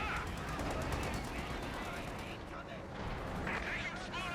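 Rapid machine-gun fire and scattered shots from a Company of Heroes 2 World War II battle, continuous rattling bursts with a brief lull midway, heard under a commentator talking.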